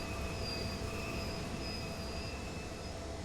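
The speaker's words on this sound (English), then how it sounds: "An auto-rack train pulling out" In Train Sim World 2, an auto-rack freight train pulls out, a continuous rumble of rolling wagons with sustained high-pitched wheel squeal, moderately distant and steady throughout.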